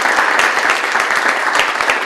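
Audience applause at a campus university gallery event welcoming the gallery director, a dense, steady wash of many hands clapping that holds at an even level for about two seconds with no talk.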